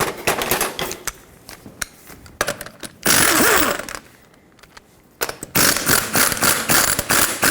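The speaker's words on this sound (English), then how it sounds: "Now you can use a regular size socket to get all the 5 21mm lug nuts off." Socket wrench ratcheting off 21mm lug nuts on a 1995-2004 Toyota Tacoma, with rapid close clicking bursts, a brief spinning whir in the middle, then a longer run of loud, fast ratchet clicks.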